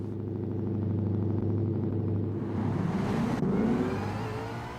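Ford Mustang rally car engine in Gran Turismo 7 hums steadily through the pit lane, a continuous mid-pitched drone with a rising whir toward the end and a brief sharp change near the three-and-a-half-second mark.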